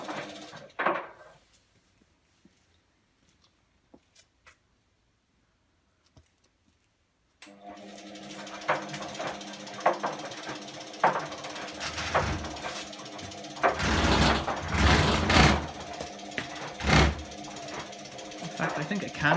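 Bosch Classixx 6 Varioperfect washing machine with a motor fault starting a 90-degree wash: near silence for several seconds, then a loud rhythmic mechanical churning and rattling with repeated thumps, close and steady, with someone talking early on.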